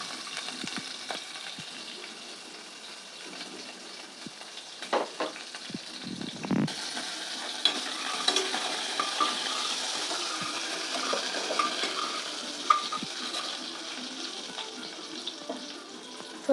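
Cumin, mustard seeds and onion frying in hot oil for an aloo bonda, a steady close crackling sizzle throughout with a brief louder burst partway through and small clinks of stirring.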